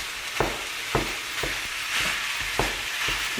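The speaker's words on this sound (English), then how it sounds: "Now the meat's going in, so There's the mince." Beef mince fries in a pan with a steady bright sizzle, punctuated every half second or so by sharp scraping stirs of a utensil, close and continuous with no voices.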